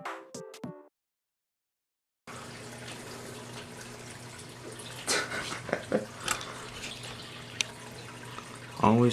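Running water trickles and splashes inside a Sulawesi water skink vivarium, starting after a brief tonal sound and a silent gap, then a continuous babbling flow with small louder splashes.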